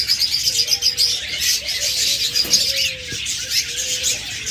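A pair of blue Fischer's lovebirds kept as pets chirps in busy, overlapping high tweets, with a few short lower calls mixed in, close and fairly loud throughout.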